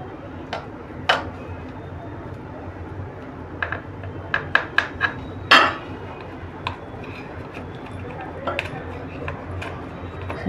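Set coconut banana vadi pieces lifted from a tray in a home kitchen, with sporadic clinks and taps of a utensil against metal, a sharper scrape midway, over steady background hum.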